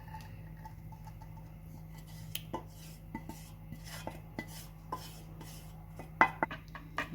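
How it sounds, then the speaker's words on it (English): A spoon knocks and scrapes against a mixing bowl as chocolate mud cake batter is mixed with an egg mixture, giving quiet, irregular ticks and clinks over a low steady hum, sharper taps near the end. "I'm just going to mix that really well"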